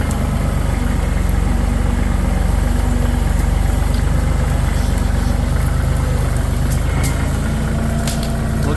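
A tractor engine runs steadily while a grapple clears downed trees from a trail, a loud, close, even idle-like drone with rhythmic low chugging throughout.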